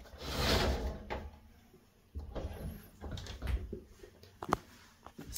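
Closet doors in a condo storage area are handled, with soft rolling slides and a few sharp knocks and clacks as the panels open and shut, close by and fairly quiet, with no talking.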